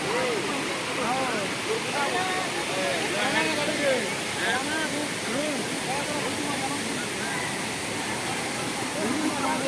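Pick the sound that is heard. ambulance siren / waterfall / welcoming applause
waterfall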